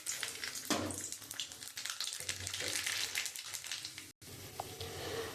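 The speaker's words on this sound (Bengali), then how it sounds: "আমি ওই মাছ ভাজার তেলের মধ্যে একটু কালো জিরে আর তেজপাতা ফোড়ক দিয়ে দেবো" Nigella (black cumin) seeds and bay leaf crackle in hot oil left over from frying rohu fish for a curry, a steady, close, busy sizzle with a brief break near the end.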